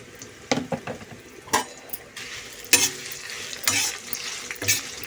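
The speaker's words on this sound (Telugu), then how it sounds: "ఎండుమిర్చి వేయించుకుని" Dry red chillies fry in a pan, with a soft continuous sizzle broken by several sharp scraping and clinking stirs of a spatula against the metal, close and moderately loud.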